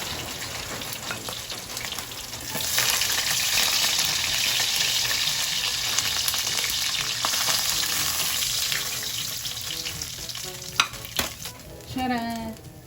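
Oil sizzles and crackles steadily as galunggong fish fry in a pan, a constant hissing texture with occasional pops and scraping.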